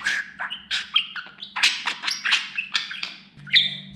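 A pet budgerigar chirps and warbles close by in a rapid, varied stream of bright tweets and chatter, with a low steady hum underneath.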